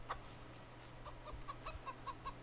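A hen clucks softly while laying an egg in a farm pen, sending out a short run of evenly spaced, fairly faint clucks over a quiet background with low hum, and no one speaking.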